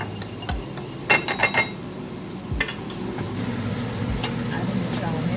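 A spoon mixes a chow mein sauce of soy sauce, sugar and black pepper in a sizzling pan, giving a few sharp metallic clinks and scrapes over a steady frying hiss.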